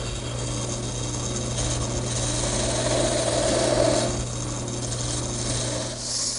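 A skew chisel cutting a V-groove into a spinning wooden chair leg on a wood lathe for a rocking chair, a steady close scraping hiss over the lathe's constant motor hum, swelling slightly in the middle.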